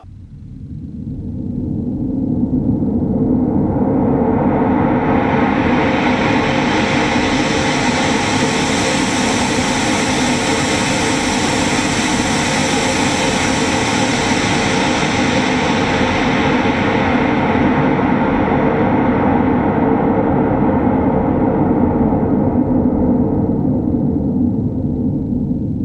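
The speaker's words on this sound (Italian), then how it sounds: "Il rumore rosa contiene uguale energia per ottava." Pink noise from a synthesizer rises quickly and sustains as a loud, steady rushing roar with heavier low end, continuing unbroken with no other sounds.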